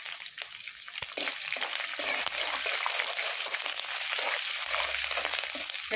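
Mustard seeds, asafoetida and curry leaves sizzle in hot oil as a tempering for temple-style curd rice, a bright continuous frying hiss with small pops, close and steady.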